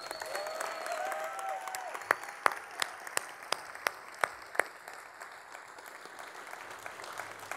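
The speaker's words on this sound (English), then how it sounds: "one more round of applause, please, for the graduates of the Go Foundation" An audience at the GO Foundation graduation ceremony applauds the graduates, a soft, moderately sized round of clapping with a few sharp, close hand claps standing out in the middle and a faint whistle early on.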